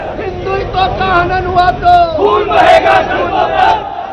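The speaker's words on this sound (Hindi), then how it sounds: "मेरठ के सरधना में बीजेपी विधायक संगीत सोम के घर के बाहर जमा हुई भीड़ खुलेआम खून बहाने की धमकी दे रही है।" A crowd gathered outside BJP MLA Sangeet Som's house in Sardhana, Meerut, shouts threats, with loud overlapping chanting voices and rising, surging yells that swell and fall continuously.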